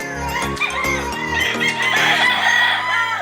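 A gamefowl rooster crows loudly and close at a game farm in Abra, with clucking and other fowl around it and no talk.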